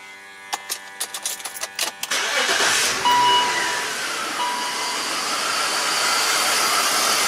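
Car engine with a misfiring cylinder number 1 cranks in a series of rapid clicks and bursts, then catches and settles into a steady, rough-sounding idle, close and fairly loud.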